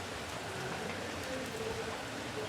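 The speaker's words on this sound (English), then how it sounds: "So it's been raining for several hours." Continuous gentle rainfall, hours long, a constant hiss of drops on surfaces, steady and uninterrupted with no one speaking.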